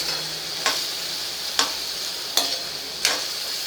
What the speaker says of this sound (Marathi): साधारण 2 मिनटं आपल्याला ह्या लोण्यात ही भाजी परतवायची आहे, किंवा बटरमध्ये ही भाजी आपल्याला परतवायची आहे.